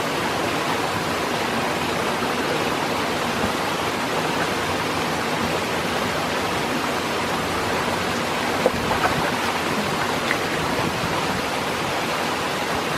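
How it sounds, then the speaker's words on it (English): River water flowing through New Zealand bush, a steady broadband rush of moving water, close and constant, with no voices. "It was a welcome sight to hit the river."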